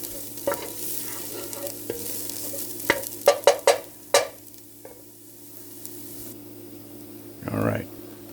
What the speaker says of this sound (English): I'm gonna keep on stirring that.